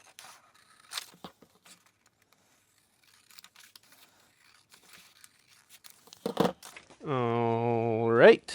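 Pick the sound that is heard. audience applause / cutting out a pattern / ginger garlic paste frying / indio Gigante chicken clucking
cutting out a pattern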